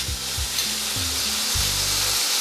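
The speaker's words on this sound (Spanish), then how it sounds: "Voy a poner acá 2 cucharaditas de ajo picado, lo doramos." Chopped garlic sizzles in a hot pan, a steady close frying hiss with a few soft scrapes and bumps of stirring underneath, no voices.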